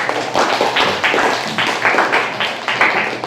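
A classroom of students claps for a presenting group, a dense, steady round of applause pulsing in quick uneven waves, loud and close.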